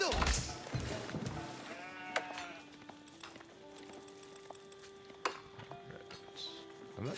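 Sheep bleat repeatedly in Age of Empires, several wavering calls over sparse game sounds, with a few sharp clicks and thuds and a steady background tone.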